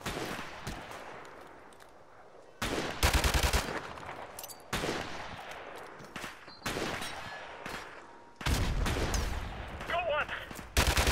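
Gunfire in the Call of Duty 4: Modern Warfare Remastered campaign, loud bursts and rapid volleys crackling in heavy clusters, with a player shouting in between.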